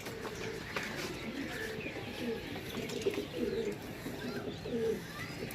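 Pigeons offered for sale coo steadily and close by, overlapping throaty calls repeating throughout with a few light chirps and faint voices in the background.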